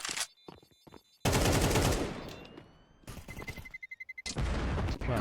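Counter-Strike 2 gunfire in a competitive match, sharp automatic bursts and single cracks with a long reverberant tail, then a fast rhythmic string of shots, close and loud, separated by short quiet gaps.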